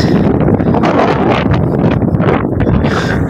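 Strong, gusty wind buffeting the microphone on a mountain trek to Keralam Medu, a loud, rough rumble that surges and dips for a few seconds, with no voices.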